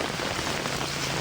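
Heavy rain pours in a steady, dense hiss that fills the whole moment, loud and close with no voices.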